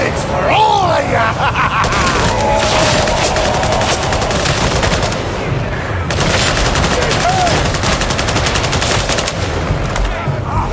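Sustained automatic gunfire in the Warhammer 40000 Darktide game, rapid machine-gun bursts roaring almost without pause, loud and near, with shouted voices and groans layered over it.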